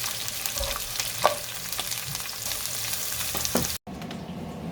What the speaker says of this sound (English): Get all that nice onion into the pan and move it around so it gets a chance to cook up nicely.